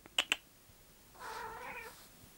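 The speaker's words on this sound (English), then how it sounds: "One of the cats has just walked in." A cat gives two short, sharp meows followed by a longer, drawn-out yowl as it walks into a quiet indoor room, the calls fairly close and clear against faint background noise.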